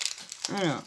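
Brief crinkling rustle of a small piece of adhesive tape being handled during bead jewellery making, close and quick, followed by a voice speaking.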